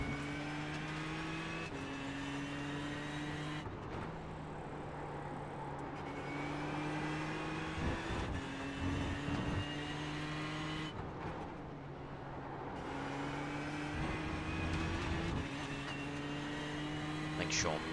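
A damaged Ford GT GTE race car in a racing video game laps Monza, its engine droning steadily with gear shifts stepping the pitch up and down, while someone talks over it throughout.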